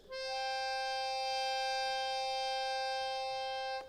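An accordion sounds a fifth using a quint with an 8-foot stop, a single steady, reedy sustained tone held for several seconds with no talking.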